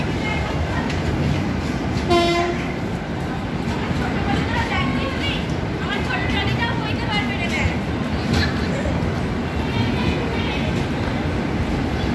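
The Agartala Tejas Rajdhani Express runs with a loud, continuous rail rumble and rattle heard from an AC two-tier coach, a short horn blast sounding early, while a voice talks throughout.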